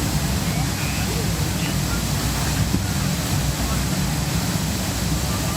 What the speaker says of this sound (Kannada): ಈ ಪೈಪ್ ಲೈನ್ ಒಡೆದು ಅಲ್ಲಿ ಸಾಕಷ್ಟು ಪ್ರಮಾಣದಲ್ಲಿ ನೀರು ವ್ಯರ್ಥವಾಗ್ತಾ ಇದೆ